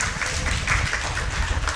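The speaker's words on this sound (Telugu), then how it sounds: "చప్పట్లు కొట్టి దేవుని స్తుతిద్దాం" A church congregation at a Telugu Christian service claps together in praise, a dense, fairly soft wash of applause that stays even and continuous throughout.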